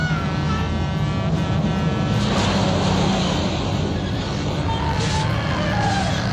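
A truck passes in a 1974 horror film chase scene, a continuous low engine rumble and broadband road roar that swells and holds steady throughout, with a slight rise in hiss toward the end.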